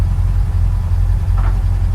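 A 1957 Dodge W100/200 Power Wagon engine running close by, a loud steady low-pitched rumble that continues evenly without any break.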